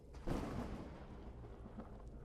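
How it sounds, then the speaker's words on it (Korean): A low, dull rumble of thunder rolls through a horror game, a faint muffled boom that swells early and then fades away. "오늘따라 천둥이 많이 치네 게임에서"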